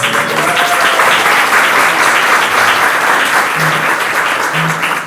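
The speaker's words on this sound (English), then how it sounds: "We can give him a round of applause" An audience at a youth enrichment program luncheon gives Mr. Baker a round of applause, a loud, dense and continuous clapping that holds steady throughout with faint murmuring voices underneath.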